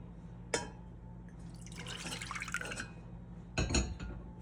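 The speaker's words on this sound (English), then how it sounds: "We're going to add in 1 cup of milk" Milk poured into a saucepan over low heat, with a short splash, a stretch of liquid trickling and clinking, and another brief pour, close and clear with no talking.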